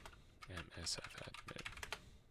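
Quick bursts of computer keyboard typing while logging into a Telnet session, close and crisp, several clustered keystrokes followed by scattered taps.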